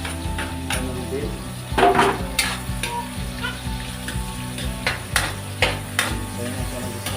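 Cucumber and garlic stir-fried in a pan, with a continuous sizzle of hot oil and repeated scraping and clinking of a utensil against the pan at an uneven rhythm, no talking.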